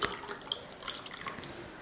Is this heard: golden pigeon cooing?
no